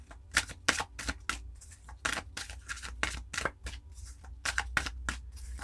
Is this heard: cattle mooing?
no